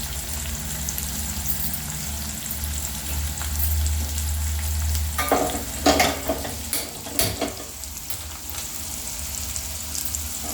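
Onions frying in a pot for chicken dum biryani, a continuous sizzle over a low hum, joined in the second half by clattering, scraping stirring and pot knocks, no voices.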